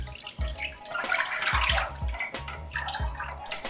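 500 ml of thick instant coconut milk pours steadily into a rice cooker for rendang, a continuous liquid splashing and gurgling close by, with no talking.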